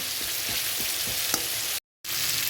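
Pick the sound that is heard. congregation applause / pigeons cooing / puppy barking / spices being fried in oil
spices being fried in oil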